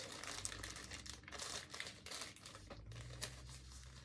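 Painter's tape is pulled and pressed over a package flap: a steady close crinkling and tearing rustle with a couple of sharper crackles, alone without talk.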